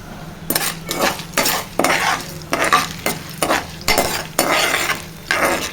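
A spoon stirs chana dal, urad dal, cumin and dry red chilies frying in oil in a pan, with rhythmic scraping strokes roughly every half second over a soft sizzle.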